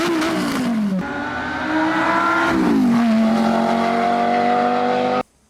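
A loud sports car exhaust with a bypass muffler and separate side outlets roars steadily, its raspy drone rising and dipping in pitch with the revs, then cutting off abruptly.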